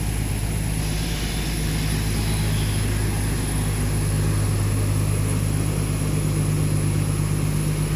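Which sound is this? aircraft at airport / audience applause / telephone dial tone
aircraft at airport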